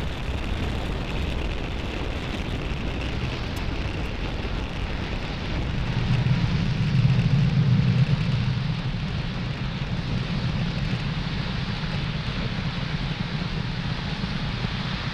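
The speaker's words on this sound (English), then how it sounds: "Falcon 9 has successfully lifted off with Globalstar FM-15 satellites" A SpaceX Falcon 9 rocket lifting off with Globalstar satellites produces a loud, continuous broadband roar that swells slightly partway through and then holds steady, distant and unbroken.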